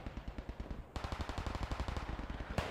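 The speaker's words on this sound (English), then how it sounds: "Looks like we have another strafing run here" In the Squad 44 video game, a BF-109 makes a strafing run, its machine guns loosing a rapid, loud burst of fire that grows harsher midway through. No voices are heard.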